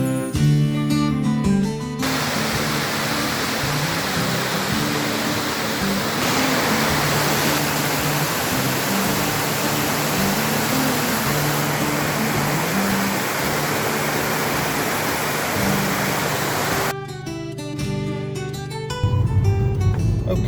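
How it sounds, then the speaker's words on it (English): Glencar waterfall in Sligo, Ireland, roars in a steady, loud broadband rush of falling water, close and continuous throughout, with only brief changes in texture near the start and end. "Just give you an impression of this force of this water."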